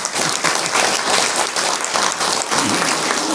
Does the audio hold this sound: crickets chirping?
no